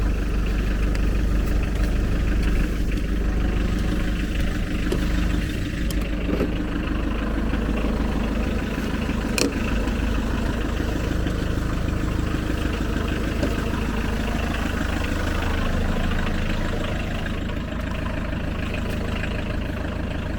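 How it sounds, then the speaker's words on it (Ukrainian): A car engine idles steadily after starting, a constant low rumble that continues throughout, fairly loud and close, with no talk over it. "Машина, кстати, завелась."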